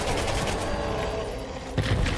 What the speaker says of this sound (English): It freezes the explosion inside,